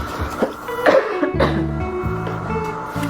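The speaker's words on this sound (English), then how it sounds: "Coughing again." Several harsh, close coughs burst out in quick succession, each a short rough blast, with a low steady background hum.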